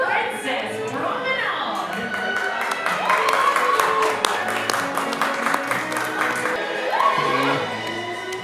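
Scattered clapping and cheering from a crowd for a royal princess promenade at Akershus Royal Banquet Hall, Epcot, beneath loud music and voices, the applause modest and blended into a busy, festive scene.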